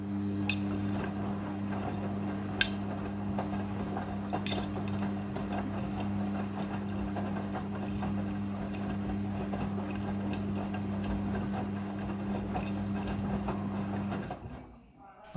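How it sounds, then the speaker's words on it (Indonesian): A Midea front-loading washing machine running its rinse cycle, a steady low mechanical hum with occasional light clinks and knocks of laundry inside, ending with the motor stopping. "Setelah proses pemerasan selesai, masuk ke proses pembilasan air yang kedua."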